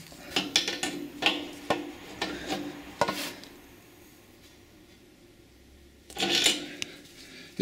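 A bolt is tightened on a Clarke air compressor during servicing, producing short bursts of metallic clicking and clanking up close, then a quiet pause before another brief clatter.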